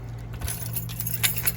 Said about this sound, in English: I didn't think to unlock the door first.